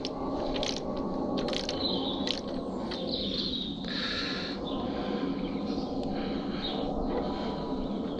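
Ratchety mechanical clicking and scraping from a bolt being loosened while a steering damper is fitted to a Yamaha MT-09 motorcycle, close up over a steady broadband hiss with a few sharp metallic knocks.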